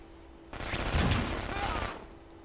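Gunfire from the video game Brink, heard during an ESL championship match: a rapid burst of shots lasting about a second and a half, rising from and fading back into a quiet hum.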